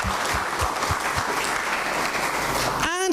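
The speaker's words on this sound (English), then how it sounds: "I think we should a round of applause for him." Audience applause at a Biashara Tuesday morning show, dense steady clapping that fills the clip at full loudness, with a few louder claps near the start and a brief tonal sweep at the very end.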